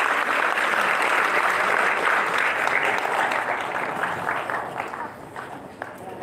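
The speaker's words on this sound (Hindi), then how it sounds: "जोरदार तालियों की आवाज" Loud audience applause, dense and sustained at first, then gradually thinning out and fading toward the end as the clapping winds down.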